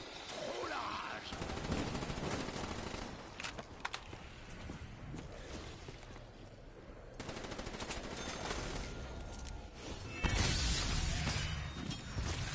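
Video game gunfire crackles in rapid bursts and single shots over a dense, noisy mix, fairly faint overall, with a louder burst near the end.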